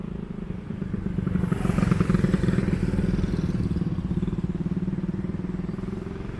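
A motorcycle engine drones steadily at close range while someone rides it, swelling briefly before settling into an even, throbbing run with light rattles.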